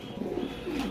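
A Granadino pigeon gives a soft, low cooing call, close and faint, a short burbling phrase with no voices.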